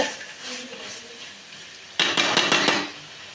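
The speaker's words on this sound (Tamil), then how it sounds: "உப்பு போட்டு நல்லா இதை கிண்டிக்கலாம்" Tomato and onion with salt being stirred in a pan for tomato rice: a soft sizzle, then a sudden burst of loud scraping and clattering spoon strokes lasting about a second before fading.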